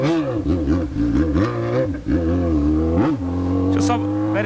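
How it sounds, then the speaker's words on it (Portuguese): A Yamaha XJ6 motorcycle accelerates hard. Its engine note climbs and drops repeatedly as it runs through the gears, then settles into a steady high whine, and it sounds close and loud. "Ixi, Maria, corre pra caramba essa moto."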